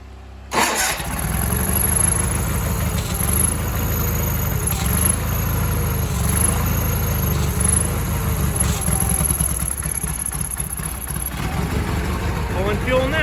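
A Sears Suburban garden tractor engine fires up after a brief silence, then settles into a steady, slightly uneven idle that runs loud and close throughout.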